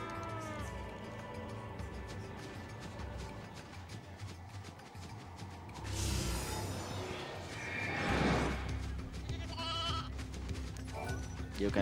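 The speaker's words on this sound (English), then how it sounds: "And for some reason the sheep actually make cow sounds." Sheep in the video game Final Fantasy XIII-2 letting out cow-like bleats over steady game music, with a few whooshing effects partway through.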